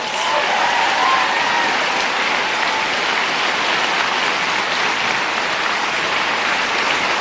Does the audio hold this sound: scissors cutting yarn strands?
no